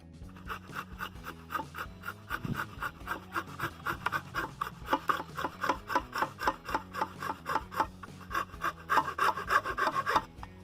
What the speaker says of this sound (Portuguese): Com uma serra-copo de 22 mm, eu faço um furo bem no meio da arruela.